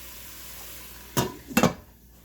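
Onions and celery cook in a soup pot with a soft, steady sizzle, broken by two loud, close clanks of a utensil against the pot.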